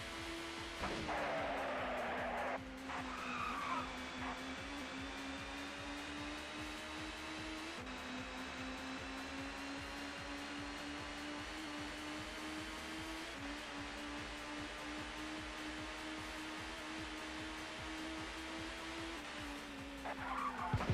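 A touring race car in ToCA Touring Car Championship at Silverstone International skids into a spin, its tires squealing in a long continuous whine over the engine drone, with pitch shifts as it slides.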